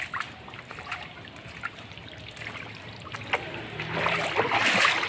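Floodwater moves and sloshes steadily nearby in Metro Manila, a rushing trickle that swells louder toward the end, with no voices.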